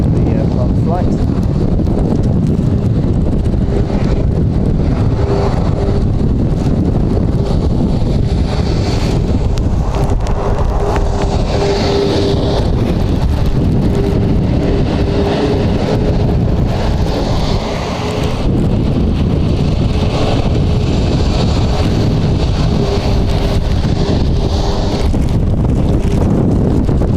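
Strong wind at Edinburgh Airport buffeting the microphone in a loud, constant roar with gusty rumbles, and a person talking underneath it.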